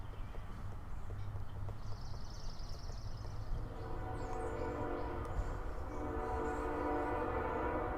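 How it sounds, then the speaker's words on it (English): A train rumbles through as a background transition effect in a music production, a low, steady rolling roar with a faint horn-like tone rising later, moderately quiet and continuous without speech. "just this train sound"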